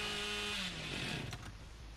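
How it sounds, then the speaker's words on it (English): A chainsaw revs in the video game Dead by Daylight, a loud, continuous, rough motor roar whose pitch slides downward, with no talking. "So, chainsaw run."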